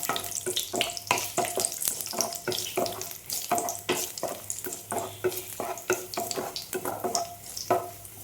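Cashew nuts fry in a pan with a spatula stirring rhythmically, producing repeated scraping and light sizzling strokes at a moderate level, with no talk.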